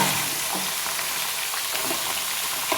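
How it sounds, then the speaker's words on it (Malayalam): Vegetables for avial, including drumstick, yam, colocasia, ash gourd, cucumber and snake gourd, are sautéed in a pan with a steady, loud hiss of frying throughout. No one talks. "ഇത് നമുക്കൊന്ന് വഴറ്റാം."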